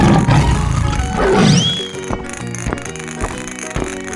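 A cartoon tiger lets out a loud roar at the start, backed by playful children's music that keeps going with rhythmic hits after the roar fades.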